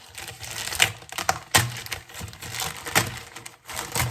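A plastic bag crinkles and rustles as scissors snip it open in short, sharp bursts, close up and irregular.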